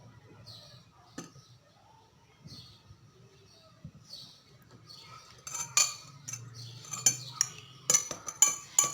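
A metal spoon clinks against a cup while stirring honey into hot milk, sparse taps at first, then quicker bright clinks, with birds chirping in the background.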